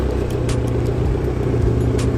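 A Dodge SRT4 at an Atlanta end-of-season car meet rumbles loudly nearby, its engine idling in a rough, steady burble with no speech over it.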